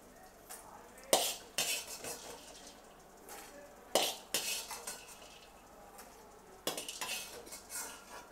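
Whole spices for masala chai powder are dry-roasted in a hot kadai and stirred with a metal spoon, giving repeated clinks and scrapes in bursts over a faint background, close by and with no talking.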